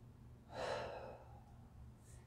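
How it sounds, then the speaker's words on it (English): A single deep inhale taken during a stretching and mobility recovery workout, close and soft, rising then easing off into quiet breathing. "One more nice big breath."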